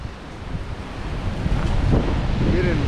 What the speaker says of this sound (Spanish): Mucho viento.